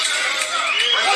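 Crowd noise roars continuously through a professional boxing bout between Golovkin and Szeremeta, a loud, dense wash of cheering that holds steady across the short moment.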